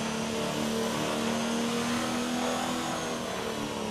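An F1 car's engine in the racing game F1 2019, holding a steady, high-revving drone at an even pitch for a few seconds, with no voices over it.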